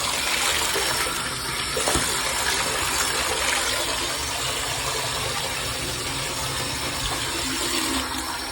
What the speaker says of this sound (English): I'm just kind of rinsing all that off.